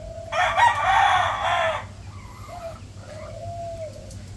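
A big rooster at a backyard poultry pen gives one loud, close crow, followed by softer clucking and calls from nearby fowl.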